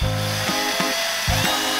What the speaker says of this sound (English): we just let it be known that DIY Dad is using power tools now